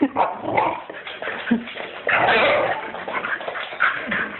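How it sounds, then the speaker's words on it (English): Close-up dogs, including a puppy, growling, yipping and barking in playful bursts, with whimpers mixed in and no steady speech. "kind of growly when she plays"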